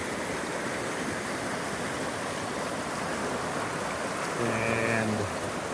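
Rock Creek on the Pacific Crest Trail flows in a steady, broadband rush of moving water, constant and fairly close throughout, with a brief tonal sound rising over it near the end.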